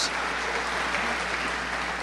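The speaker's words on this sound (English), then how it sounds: "let's give all of our elected officials and our city staff a round of applause" Audience applause for elected officials and city staff at a regional chamber state-of-the-cities event, a steady dense wash of clapping held at an even level throughout, with no one talking over it.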